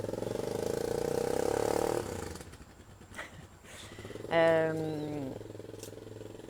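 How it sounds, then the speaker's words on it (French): Motorcycle engine rumbling close at first, then pulling away and fading, followed by quieter scattered noises; a voice briefly speaks partway through. "Puis je vais attendre que le bonhomme s'en aille avec sa moto."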